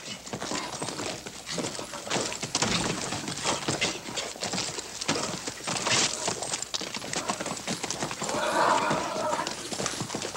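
Horse hooves clip-clop steadily with an occasional whinny, close by, as people talk over the rhythmic clatter of horses being wrangled.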